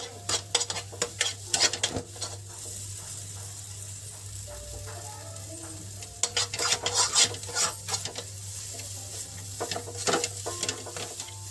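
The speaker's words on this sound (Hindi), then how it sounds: "और इसे हमें लगातार ही इसी तरह चलाते रहना है" Spoon scraping and stirring a sweet sugar mixture in a pan for rasbhari mithai, bursts of rhythmic scraping with soft sizzling in between, close and fairly loud, no talking.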